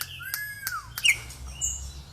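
Songbirds in an aviary, including a troupial, give several sharp whistled chirps and short rising and falling notes, close and clear over a quiet low background.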